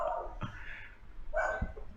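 A dog at home gives two short, muffled barks from another room, with a soft whimper between them.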